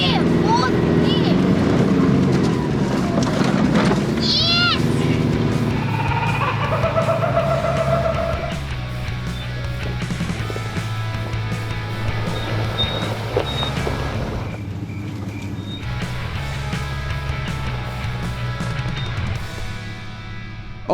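A Nissan Patrol 4WD on 37-inch tyres driving a bush track at Kinglake West, Victoria, its engine drone loud and near throughout, with voices talking over it.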